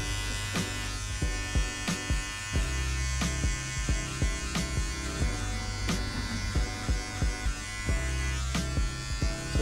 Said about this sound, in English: I just angle my clippers backwards and I blend into that hair above